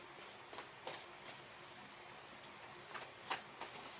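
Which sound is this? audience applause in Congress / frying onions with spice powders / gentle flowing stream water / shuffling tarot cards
shuffling tarot cards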